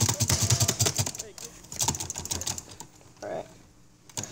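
Computer keyboard keys pressed rapidly right beside a microphone during a GTA San Andreas session, dense fast clicking bursts that trail off, with a brief spoken word near the end.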